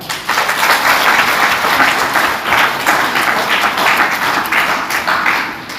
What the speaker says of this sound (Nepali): परमेश्वरलाई धन्यवाद दिन्छौँ ताली बजाएर।